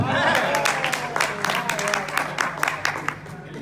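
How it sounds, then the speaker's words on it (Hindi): Audience applause at a Hindi kavi sammelan poetry recital by a poet: a steady wash of clapping from a crowd, fairly loud, running the whole time and mixed with voices. "यहाँ तालियां आती।"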